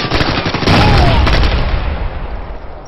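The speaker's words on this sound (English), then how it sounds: "Rolling a frag!" A frag grenade detonates in the Ghost Recon: Future Soldier multiplayer game, a loud, close blast that bursts suddenly and rumbles away over a few seconds, with no voices.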